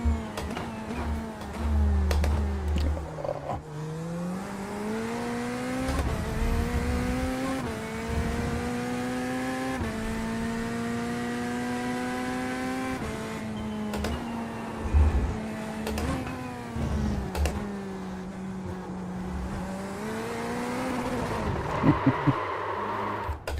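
Race car engine in the iRacing sim at Portimao, droning steadily with rising and falling pitch as it accelerates and shifts through gears, loud and continuous for the whole stretch.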